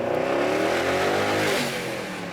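Brabus 900 HP Mercedes-AMG GLE 63 S Coupe accelerating, a loud continuous engine roar with climbing pitch that eases slightly near the end, with no one speaking.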